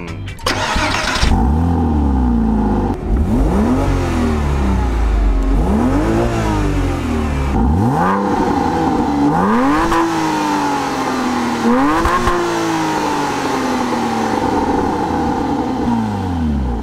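A Porsche Boxster and a Ford Fiesta ST rev hard against each other, engines loud and close, with repeated rising and falling revs that climb in pitch and drop back, almost unbroken throughout.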